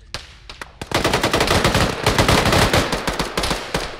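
Rapid automatic gunfire in a video game rattles continuously for about three seconds, dense and close, after a few scattered opening shots, with the bursts striking near the player.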